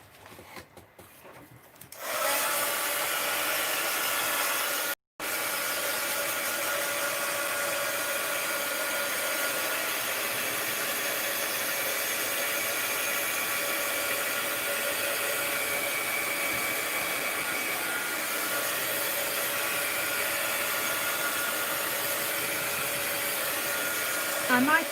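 A hair dryer blows steadily on a painted art card, starting after a brief rustle and running loud and continuous with one short cut.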